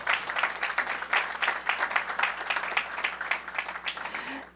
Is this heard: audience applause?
yes